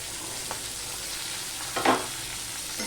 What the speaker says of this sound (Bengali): মিশিয়ে নিয়ে আমি একটুখানি তিন থেকে চার মিনিট আমি ভেজে নেব ফোড়নের সাথে